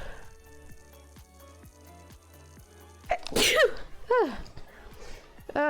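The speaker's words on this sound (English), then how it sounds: "I am so sorry, I'm about to sneeze." A single loud sneeze bursts out after a few seconds of quiet background music, followed by sniffs and throat noises close to the mic.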